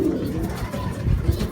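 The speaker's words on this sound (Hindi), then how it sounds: "लंबी गर्दन के कबूतर हैं, ज़बरदस्त चीज़ है माशाल्लाह" Long-necked pigeons cooing close by, low soft throaty coos repeating over a brief stretch with faint background noise.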